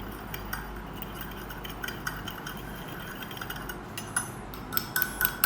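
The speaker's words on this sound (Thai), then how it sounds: "ไข่ก็ไม่มีอะไรครับ ก็ตีไข่ไปเรื่อยครับ ตีไป ตีไป" Eggs are beaten for a Thai omelette, with a steady, quick patter of a utensil whisking in a bowl and light clinks against the rim growing sharper toward the end.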